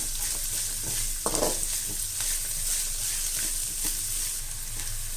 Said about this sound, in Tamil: இப்போ இந்த மிளகாய் இதெல்லாம் நல்லா வதங்கணும்.